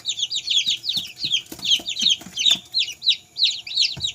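Several Rhode Island Red chickens clucking in a brooder under a warming lamp, a lively overlapping chorus of short calls and chirpy notes in steady bursts, close by with no talking.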